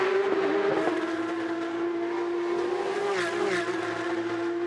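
Porsche Carrera Cup race cars scream past on the Toronto street circuit, a steady high engine wail with rising and falling pitch as cars run nose to tail, loud and continuous.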